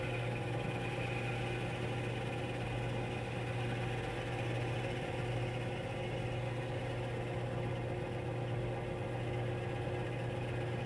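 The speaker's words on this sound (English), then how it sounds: "You turn the drill press on with this switch on the front." A drill press runs at around 1,300 RPM, a steady, close motor hum with an even droning tone that stays constant throughout with no talking.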